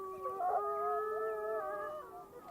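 Several wolves in Yellowstone join in answering howls, their overlapping tones layered into a sustained chorus that rises briefly, holds, then fades at moderate distance.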